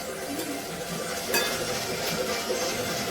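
Onions frying in oil until brown, a steady crackling sizzle with a few stirring scrapes and a brief utensil clink, close and continuous, with no talk over it.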